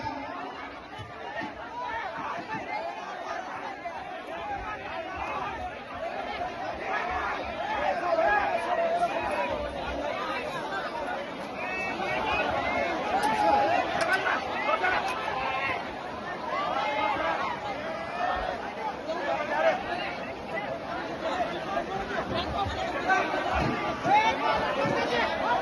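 A crowd at a village fair programme in India chatters and shouts in a restless hubbub after a scuffle, a dense babble of many voices that swells and fades over the whole stretch.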